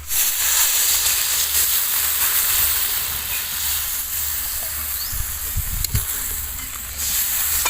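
Water poured into a hot pan of fried spice paste for a fish curry gives a loud, continuous hiss and steamy sizzle close by, easing slightly midway with a few soft clunks, no voices.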